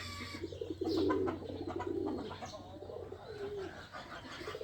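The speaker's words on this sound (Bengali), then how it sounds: "এই যে একটা কবুতর দেখতে পাচ্ছেন খড়গুটা নিয়ে কিন্তু বাসা বাঁধার চেষ্টা করতেছে" Pigeons coo softly nearby as one carries straw to build a nest, low throaty warbling calls repeated over a faint steady background hum.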